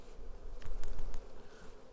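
Honeybees at a hive frame buzz softly in a low, busy drone, with a few brief louder whirs as individual insects fly close.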